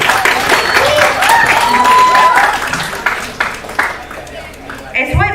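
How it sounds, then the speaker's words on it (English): Loud applause rises from the audience at a 2021-22 college prize distribution ceremony as a semester topper is honoured, strong at first and thinning out near the end, with voices mixed into the clapping. "Please have a round of applause."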